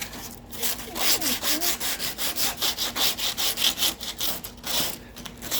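Wood being hand-sanded with sandpaper while building a table, a steady rhythmic rasping of back-and-forth strokes, close and fairly loud, with no talking.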